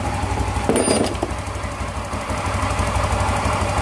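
Yamaha Mio Z scooter engine idling steadily up close after a new Vario 125 piston and cylinder block were fitted, a rapid even mechanical chatter with a brief rise in pitch early on.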